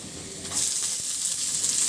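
Chopped onion dropped into a hot pan for begun bharta, a steady close hiss of sizzling that swells after a brief moment and keeps frying evenly.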